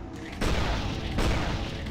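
A big cannon fires in Torchlight 2, two heavy booming blasts about three-quarters of a second apart, loud and close with a rolling tail after each.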